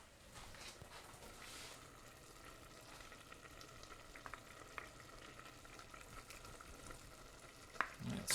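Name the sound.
stirring vegan gumbo with adobo chili in a pot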